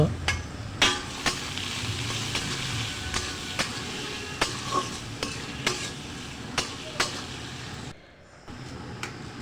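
Chopped potatoes fry in a pan seasoned with turmeric and salt, a steady sizzle broken by about a dozen sharp knocks of a spatula stirring and scraping, then a brief drop near the end before the sizzle resumes.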